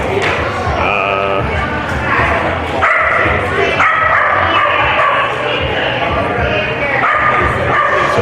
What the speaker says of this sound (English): We also have some demonstrations with the dogs.